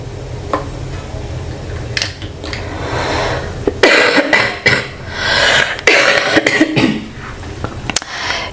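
A woman coughs several times in short bursts, close and fairly loud, with throat-clearing rasps between them.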